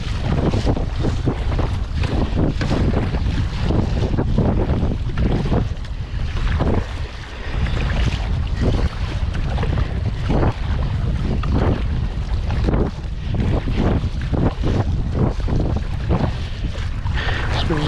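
Steady roaring wind buffets the microphone while a kayak is paddled into a headwind along a rocky New Zealand shore, with rhythmic paddle and water splashes under the continuous loud gusting.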